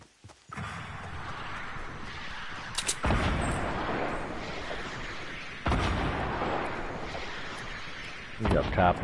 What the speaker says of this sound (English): We got people shooting over there